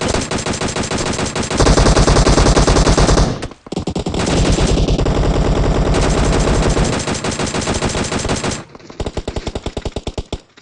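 Sustained automatic gunfire from the PUBG Mobile battle royale game rattles in long, loud bursts, with a short break and a final choppy burst of separate shots.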